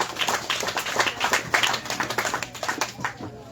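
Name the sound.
crowd applause for the mayor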